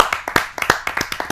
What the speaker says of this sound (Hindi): आप सबकी जोरदार तालियों से स्वागत करते हैं।